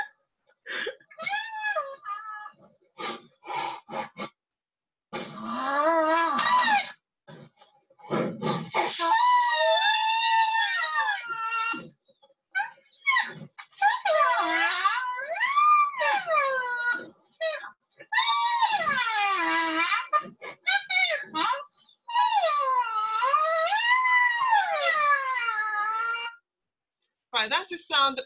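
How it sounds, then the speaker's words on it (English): A series of high, wavering squeals and whining calls from a Javan rhinoceros, repeated in bursts with short pauses between them. "that's the sound of the Javan rhinoceros"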